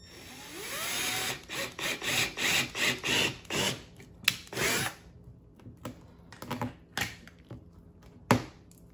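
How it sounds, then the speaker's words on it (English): A power drill whirs in a run of short bursts, rising and stopping, drilling a starter hole in a Club Car Tempo golf cart body for a light kit, then a few scattered tool noises and clicks as it winds down. "I'll drill my starter hole, start trimming this out with a Dremel."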